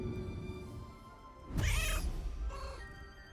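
A druid in cat form meows in Baldur's Gate 3, a short, fairly loud feline cry in the middle of the clip, then a fainter second meow, over steady game ambience.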